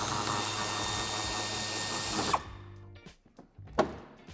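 A power tool unscrewing a fastener from the wheel arch of a BMW 3 Series E90 sedan, a loud steady whine for about two seconds that cuts off abruptly, followed by a few short clicks and handling knocks.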